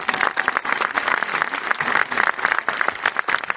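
Audience applause at an event in Paris, with individual hand claps audible as a brisk, uneven patter, fairly close and steady for a few seconds.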